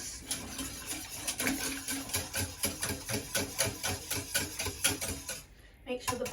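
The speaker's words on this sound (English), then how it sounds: "I'm going to give this a good whisk." Rapid rhythmic whisking of vegan brownie batter with melted butter in a bowl, a steady run of quick close scraping strokes that pauses briefly near the end.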